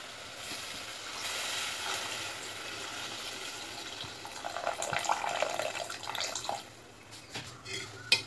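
Tamarind water pours into a cooking pan while making a vegetarian banana-flower nethili fish-style kulambu, a steady splashing stream that swells midway and tapers off near the end.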